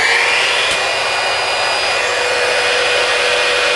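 A heat gun blows hot air steadily while heat-transfer vinyl is applied to a craft project, a loud, constant broadband whoosh with a faint high whine running unbroken and close throughout.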